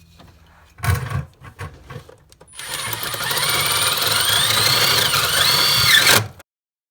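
A power drill's sustained, loud mechanical whine with rising and falling pitch runs for about three seconds after a few short knocks and scrapes, then cuts off abruptly, while repairing Pontiac Fiero taillights.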